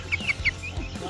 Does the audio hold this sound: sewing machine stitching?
no